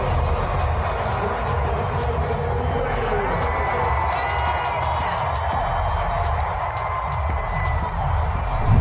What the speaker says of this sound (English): Derek Carr get a loud round of applause for his last time as a Raider at Allegiant Stadium.